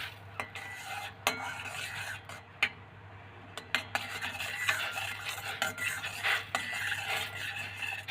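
Homemade beetroot lip balm is stirred in a pan over low heat. Close, faint scraping strokes of the spoon against the metal repeat in an uneven rhythm over a low steady hum, with occasional light clinks.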